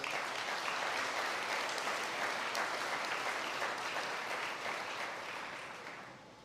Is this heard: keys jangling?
no